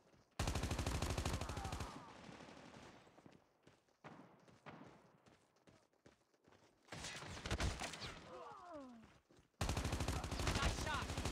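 Automatic gunfire from Call of Duty Mobile in a ranked team deathmatch on the Rust map, with loud sustained bursts at the start and end and scattered shots and game sounds between.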